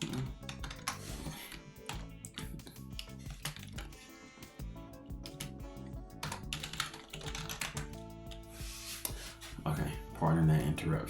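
Typing on a computer keyboard at a desk, with dense key clicks running throughout under steady background music and a talking voice.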